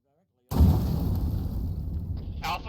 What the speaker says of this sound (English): Alpha just went down from that vehicle explosion.